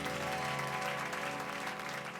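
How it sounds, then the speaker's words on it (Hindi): Enthusiastic audience applause at a stage performance for Children's Day, a dense, loud and continuous wash of clapping with steady tones ringing underneath. "तो इस बचपन के लिए बजाइए एक बार जोरदार तालियां।"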